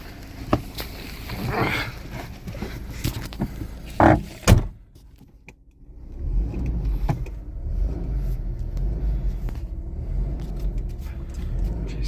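A 1993 Volvo 240 station wagon, started on seven-year-old fuel, settles into a low steady idle after a few loud clunks and a brief quiet gap.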